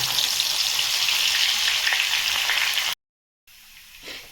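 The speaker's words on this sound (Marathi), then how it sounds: "कांदे पण फ्राय करून घेऊ" Onions fry in hot oil for chivda, a steady loud sizzle close by that cuts off abruptly, falls silent for a moment, then resumes more quietly with a faint stir.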